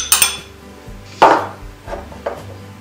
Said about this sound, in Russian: Теперь осталось добавить сюда квашеную капусту